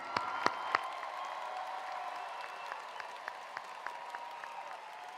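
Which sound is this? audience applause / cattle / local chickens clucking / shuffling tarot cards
audience applause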